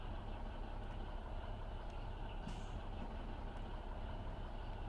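A truck engine in Grand Truck Simulator 2, a steady low droning rumble with a brief hissing burst partway through, likely from an air brake, alone with no voices.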